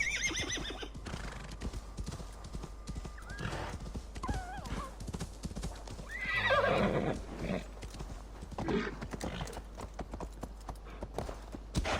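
Horse hooves clip-clop steadily through an Assassin's Creed Valhalla game scene, with occasional whinnies and neighs, game music and effects layered over the continuous rhythmic stepping.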